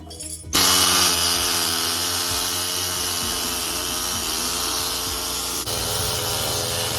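A power grinder works metal on a 1979 Jeep CJ7, starting abruptly and then holding a loud, steady, harsh whine with hiss for several seconds, changing pitch slightly near the end.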